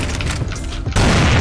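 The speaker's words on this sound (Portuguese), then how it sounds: "Granada!" A grenade detonates in a team shooter game match, a deep booming blast with scattered gunfire-like crackle, then a sharp loud burst near the end that stays dense and forceful.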